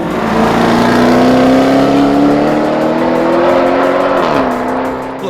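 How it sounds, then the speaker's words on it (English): A supercharged 5-litre V8 Ford Falcon XR8 drives hard, its engine note loud and close in a steady, droning roar that holds under load and then dips briefly as it shifts, with no voices. "this car also has 5 litres of supercharged V8"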